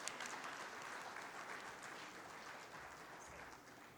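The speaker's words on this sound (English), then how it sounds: "Please give him a round of applause" Audience applause for a guest speaker at a formal quality-institute gathering, a dense, steady patter of many hands clapping close by for about four seconds, easing slightly toward the end.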